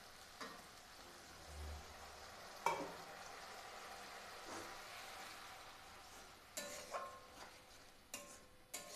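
Ground spice paste of chilli and turmeric powder simmering with water in a pan for a Bangladeshi bhola fish jhal curry, giving soft, steady sizzling and bubbling with a few louder stirring scrapes, close and with no speech.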